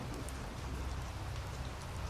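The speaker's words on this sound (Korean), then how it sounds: "비가 내리기 시작합니다." Steady rain falling on surfaces at a fishing spot, a soft continuous patter of many drops with no gaps, fairly faint and alone with no voices.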